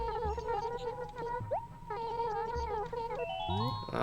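A cat villager in Animal Crossing chatters in rapid, melodic gibberish syllables with meow-like inflections, set over bright game music with rising chime tones toward the end.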